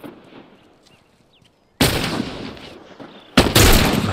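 Rifle gunfire in The Last of Us Factions multiplayer match, two loud broadband shots or bursts a couple of seconds apart, each with a long rumbling tail, following quieter ambient background.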